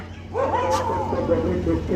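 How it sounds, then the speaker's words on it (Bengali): A dog yips and whimpers in a drawn-out, whiny vocalization, fairly close, over a steady low hum. "কুকুর এরকম করছে কে"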